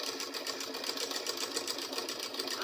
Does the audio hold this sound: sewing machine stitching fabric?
yes